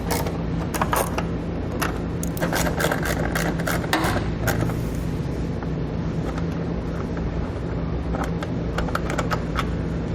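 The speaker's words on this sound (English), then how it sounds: "We'll grab a T25 Torx bit and we're going to pull those 2 bolts out." Taillight bolts on a vehicle are backed out with a T25 Torx bit, giving a run of close, sharp clicking and ratcheting ticks, busiest early and thinning out later over a steady low hum.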